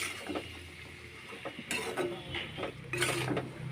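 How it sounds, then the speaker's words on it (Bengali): Drumstick pieces (sajne data) seasoned with salt and turmeric are stirred and turned over in a pan, making intermittent scraping, clattering knocks of a utensil against the pan in uneven bursts, close by and without talk. "এখন একটু নেড়ে চেড়ে নেবো, তল উপর করে নেবো।"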